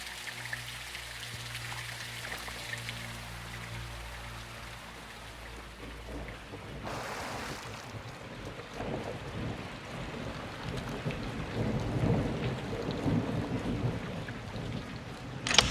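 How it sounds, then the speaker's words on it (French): Heavy rain and thunder in Call of Duty: Modern Warfare 2 make a dense, continuous downpour with a deep rumbling roll that swells and fades, then gives way to steady pattering rain that grows slightly louder toward the end. "Il pleut à verse."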